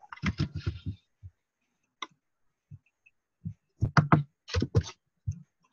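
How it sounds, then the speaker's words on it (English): Computer keyboard keys clack in scattered bursts, clusters of quick taps separated by pauses and single strokes, close and fairly quiet. "Somebody's typing on their keyboard."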